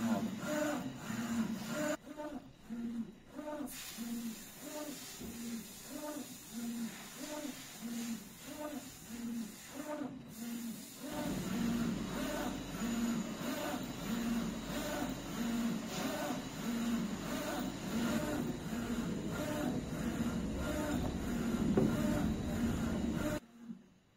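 A small dual-head UV DTF printer lays down white ink and then color onto a phone case. Its carriage makes a steady, repetitive whirring and rumbling shuttle rhythm for about twenty seconds before stopping abruptly.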